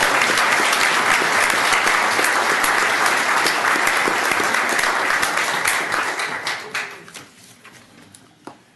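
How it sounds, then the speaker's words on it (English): Sustained audience applause at a county commissioners court session greets ten-year employees, a dense, steady clapping that holds for several seconds, then thins and fades out toward the end. "Let's give them a round of applause."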